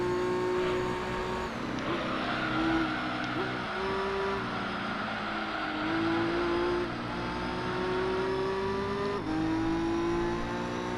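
Race car engines roar continuously through a Gran Turismo 3 race with an NSX, pitch climbing and dropping through gear shifts over a steady rumble, loud and close throughout.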